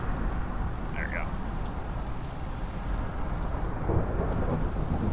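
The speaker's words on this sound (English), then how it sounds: "Nice thunderstorm." Thunderstorm in a Minecraft-style video game: steady heavy rain hissing throughout with low rolling thunder rumbling underneath, loud and continuous, no speech heard.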